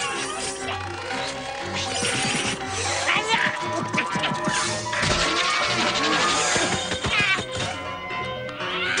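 Cartoon cat meowing and caterwauling in repeated yowls, mixed with dense background music and occasional crashing effects.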